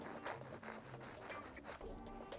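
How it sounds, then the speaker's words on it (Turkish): A knife saws through a loaf of bread, cutting it open through the middle; close, steady rasping strokes repeat in quick succession with no talking. "Burada ekmekleri orta kesiyorum."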